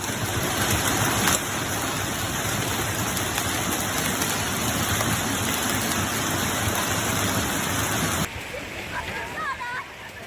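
Heavy rain and hail pound down during a violent thunderstorm in Paris, a dense, unbroken roar that drops off abruptly near the end, with a voice talking over it.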